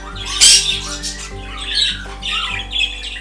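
Parakeets at a breeding farm raised for show competitions squawk loudly and repeatedly, with sharp harsh calls overlapping in a busy, close chorus of birds.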